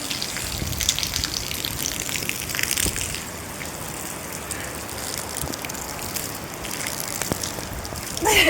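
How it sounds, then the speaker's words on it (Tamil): Heavy rain pours outdoors as a dense, steady roar of water, loud and continuous throughout with no clear breaks, and no one speaks. "மழையில் குளிக்கிறதுக்கு நான் கிளம்பிட்டேன் செம்ம மழை பெய்தா"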